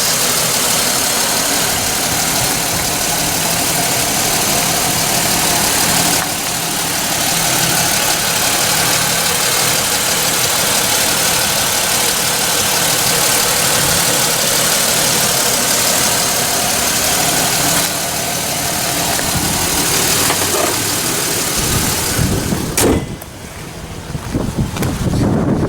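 A retired police 2006 Chevy Impala with a 3.9L V6 idles steadily and loudly throughout, a broad continuous engine drone with no talk, its tone shifting slightly near the end.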